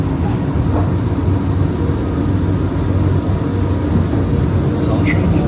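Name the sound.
monorail train riding on track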